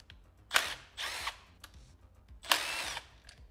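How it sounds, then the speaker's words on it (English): Power tool driving bolts while a controller is installed on a Surron electric dirt bike, with two short close whirring bursts separated by pauses and quieter clicks and handling noises between them. "Power tools are so much faster."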